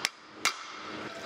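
Two sharp metallic hammer strikes about half a second apart ring out during repair work on an Audi A5 2.0 TFSI Quattro, close and loud over a steady hum of workshop background noise.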